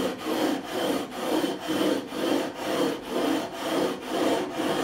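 Sandpaper on a radius block rubs back and forth across the metal frets of a PRS Mark Holcomb signature guitar in an even rhythm of about ten close, raspy strokes.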